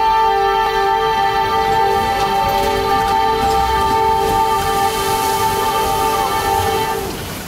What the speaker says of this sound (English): Pardon my horn here.